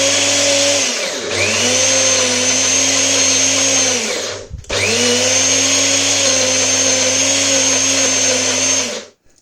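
Food grinder blending crushed peanuts into homemade peanut butter, a loud steady motor whine that runs, cuts out briefly near the middle, then resumes at full strength until stopping at the end.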